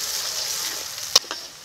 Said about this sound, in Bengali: পেঁয়াজটাকে এখন ভেজে নিচ্ছি